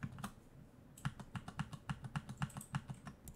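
Computer keyboard keys are pressed in a quick, steady series of crisp clicks, about a dozen taps heard close and quiet, with no voices.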